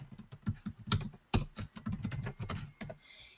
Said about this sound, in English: And you can just type in an email.